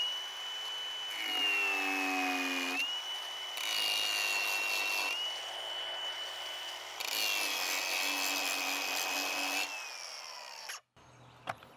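A grinder is worked by a user wearing anti-vibration gloves, giving a loud, continuous high whine with grinding bursts that rise and fall across several passes before cutting off abruptly.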